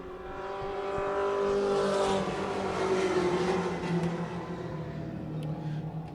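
Race cars roar down the front stretch in a short-track event, a loud sustained engine drone with shifting pitch as the pack passes close by, no talk over it.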